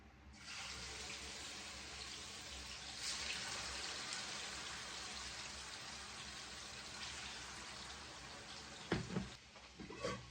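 Marinated cutlets frying in oil in a pan, a steady close sizzle and crackle running throughout, with a few sharper pops near the end and no talk.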